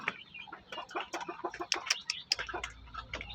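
Newly hatched native chicks from shamo eggs peep in rapid, high, overlapping chirps, close and continuous, with brief clucking mixed in.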